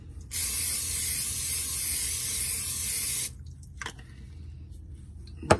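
Cooking oil sprayed into a Ninja air fryer basket in one steady, loud hiss lasting about three seconds, followed by a few faint clicks and taps.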